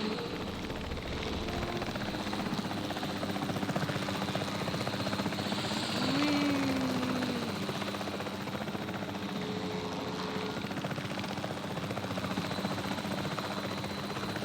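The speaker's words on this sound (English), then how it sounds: "Can I exit the chopper now?" Helicopter rotor and engine drone steadily throughout a Jurassic World Evolution game scene, a loud continuous whirring with a brief rising whine midway, no voices.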